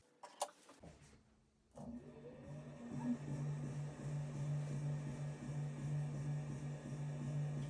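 A brand-new BTH BP02NA belt-drive potter's wheel runs in reverse, its motor spinning up after a brief clunk and then holding a steady, fairly loud hum with a faint whine, close by and alone.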